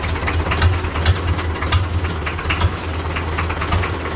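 International Harvester diesel tractor idling just after a cold start, a loud, close, rough low-frequency chug with steady rhythmic knocking pulses and no talk.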